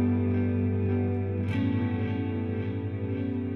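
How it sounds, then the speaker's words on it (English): Sustained guitar notes through an EarthQuaker Devices Avalanche Run delay and reverb pedal, set near self-oscillation, wash out into a thick haze, with a brief strum midway and long droning repeats trailing after. "turn this up to close to that self oscillation point, and then get the mix up, reverb up"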